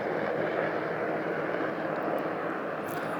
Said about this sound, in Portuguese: Agora, além do avião, está passando um helicóptero.